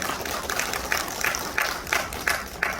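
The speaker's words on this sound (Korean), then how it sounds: "박수로 환영해 주십시오" An audience at a 2021 Democratic Party policy forum on cultural welfare, held in Gwangju's Jeonil Building 245, welcomes the moderator with steady applause, individual claps rising in a loose repeating rhythm for the whole stretch.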